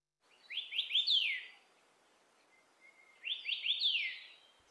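A sibia, a canopy bird of Taiwan's Snow Mountain, sings two clear phrases of quick descending whistled notes with a pause between them, ringing out alone and fairly close.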